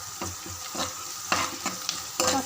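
Onions frying in a pan while being stirred: a continuous hiss of sizzling oil broken by repeated scraping strokes of a spoon, close and fairly loud, with no voices.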